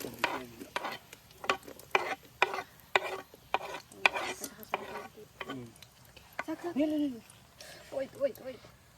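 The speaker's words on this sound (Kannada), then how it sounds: "ಇನ್ನು ಇದಕ್ಕೆ ನಾವು ಚಿಲ್ಲಿ ಆನಿಯನ್ ಮತ್ತು ಜಿಂಜರ್ ಗಾರ್ಲಿಕ್ ಎಲ್ಲ ಹಾಕಬೇಕು" Chilli, onion, ginger and garlic stirred into hot ghee over a wood-fire stove for chicken curry, giving a soft sizzle with frequent scraping stir strokes near the mic, and a voice speaking toward the end.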